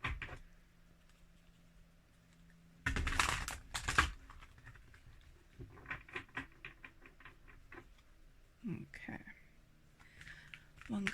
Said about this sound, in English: I'm just going to shuffle your cards